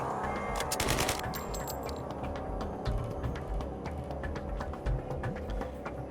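Gunfire in the video game Highwater, with a dense rattle of rapid shots early on followed by steady repeated single shots, moderately loud over a low background hum.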